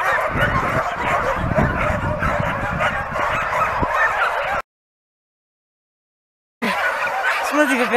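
Husky dog barking and yelping indoors at home, dense and close for several seconds, then a gap of silence before the excited vocalizing resumes.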